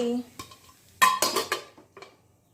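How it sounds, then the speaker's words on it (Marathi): A lid is set on a pan of sheera on the stove, with sharp metallic clanks and clinks in a short cluster of knocks, close and fairly loud, tapering to a few lighter taps. "चला याच्यावरती मी झाकण ठेवते गॅस ऑफ करते"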